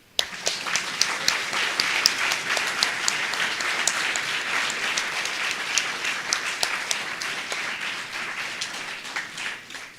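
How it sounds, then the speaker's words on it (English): An audience applauds at the end of an inaugural professorial lecture, a dense sustained round of clapping that holds steady for about ten seconds and thins slightly at the close. "Ladies and gentlemen, I invite you again to applaud her."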